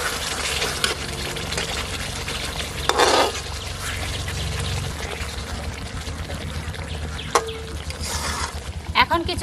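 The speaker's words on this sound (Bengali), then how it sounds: "এখন মশলার মধ্যে মাছগুলো এক এক করে দিয়ে দেবো।" Hilsa fish pieces laid one by one into hot spice paste with yogurt for hilsa pulao, a continuous close sizzle and frying crackle with stirring scrapes and a few sharp clinks.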